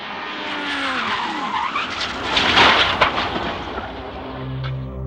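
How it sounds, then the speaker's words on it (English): Race car tires skid loudly as the rear slides out and the car spins, a sustained screeching slide with a swelling roar near the middle and a lower engine drone at the end. "Without warning, the rear swerves out and the car spins uncontrollably."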